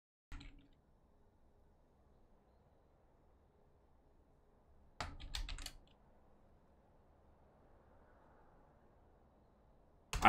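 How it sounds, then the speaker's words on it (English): A computer keyboard is typed on in three short bursts of rapid clicking, separated by long quiet stretches with a faint background hum. "I'm just typing it because I don't know how much of it's dead."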